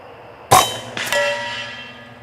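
An Air Force .25 caliber PCP air rifle fires once at a target 100 yards away, a sharp near crack followed moments later by a faint, distant clang of impact.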